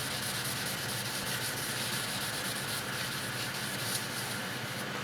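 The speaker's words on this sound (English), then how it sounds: "I'll sand between the coats with a 220 grit sandpaper" Steady dry rubbing as 220 grit sandpaper is worked over stained wood shelves between varnish coats, a continuous close scratchy hiss with no pauses.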